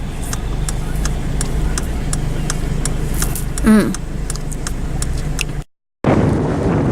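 Road traffic rumbles past steadily close by with wind noise, a brief mid-pitched tone rising in the middle, then a sudden cut.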